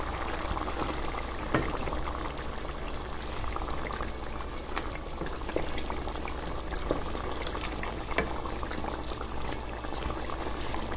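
Chicken drumstick curry gravy simmers in a pan, giving a steady bubbling, gently sizzling hiss throughout, close and even, with occasional soft pops.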